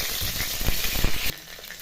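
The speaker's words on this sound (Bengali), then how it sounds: "তার মধ্যে দিয়ে দেবো জিরে ফোড়ন, আর দেবো এলাচ, দারচিনি আর তেজপাতা" Whole cumin, cardamom, cinnamon and bay leaf sizzle steadily in hot mustard oil in a kadai. The frying hiss is close and continuous, with small crackles throughout, then drops sharply near the end.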